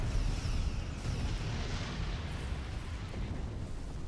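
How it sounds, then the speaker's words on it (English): Heavy, continuous blasts of plasma cannon fire from the space game Star Trek Online, a dense, rumbling roar that stays loud and steady throughout with no speech. "Oh, plasma cannon."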